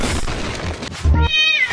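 A cat meows loudly and up close, one drawn-out wavering cry after a short burst of noise, with no talk.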